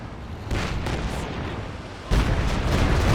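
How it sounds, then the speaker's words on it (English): Rocket barrage explosions from a Stuka in a Company of Heroes 2 match, a sudden roaring burst that swells and then hits harder with a second heavy wave of rumbling blasts, dense and close. "Stuka coming up for another barrage."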